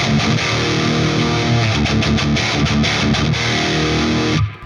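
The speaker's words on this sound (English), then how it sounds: "is like a silicone diode clipper, which is like a little bit more gritty, but it's clearer" An electric guitar plays through an amp and a silicone diode clipper pedal, giving a loud, gritty but clear tone: sustained chords with a few quick strums, then an abrupt cutoff near the end.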